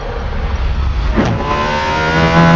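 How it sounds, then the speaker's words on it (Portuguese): A V12 engine roars and revs loudly close by, a deep steady drone with a rising sweep partway through as it accelerates, the engine sound building toward the end. "cada explosão dentro da câmara de combustão soa como um rugido ensaiado"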